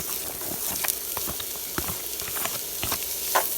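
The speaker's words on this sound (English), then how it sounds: "You hear that? That sound, that's my oil." Oil sizzles in a pan heating up for Jamaican-style smoked herring, a steady crackling hiss with scattered sharp pops and spits, close and alone.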